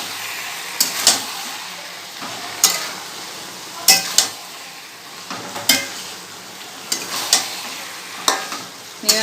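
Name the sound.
stirring frying ridge gourd and potato curry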